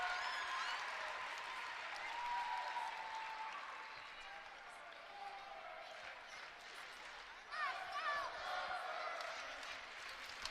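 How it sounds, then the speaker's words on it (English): A crowd cheering in a gymnastics pavilion during a Minnesota Gophers intrasquad meet, a broad murmur of voices and clapping with a short swell near the end, heard under a commentator talking. "We have a great crowd here in the pavilion. You can hear them cheering."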